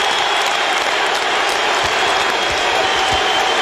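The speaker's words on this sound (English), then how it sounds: "And the crowd is chanting, Jit, MVP." Crowd noise fills a basketball arena during a Lakers at Clippers game in Los Angeles, a loud, steady roar of fans that stays dense and continuous throughout.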